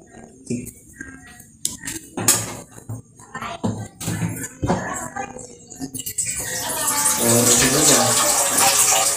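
Clattering of a pot and utensils, then water pours steadily into it for boiling for several seconds, a rising, splashy rush close by.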